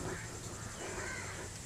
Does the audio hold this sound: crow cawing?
yes